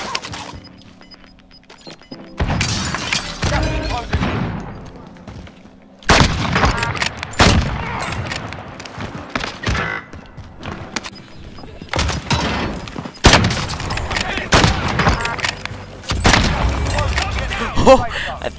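Sniper rifle gunshots in a video game come as several loud, sharp cracks, each trailing into a decaying echo, spread irregularly across the stretch with quieter pauses between.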